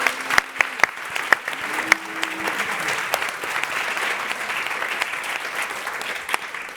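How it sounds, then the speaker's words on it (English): Sustained audience applause fills an evening event on city design, a dense steady wash of many hands clapping at moderate distance, with a few sharp nearby claps and faint voices early on. "Let's give them a round of applause for making tonight happen."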